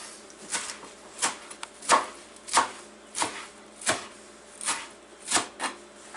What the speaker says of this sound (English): you just do a coarse little chop